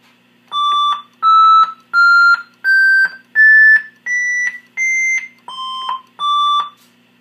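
A Gladiators pinball machine sound test: a sequence of nine electronic beeps, each about half a second long, stepping up in pitch and then dropping back, loud and clear with no talking.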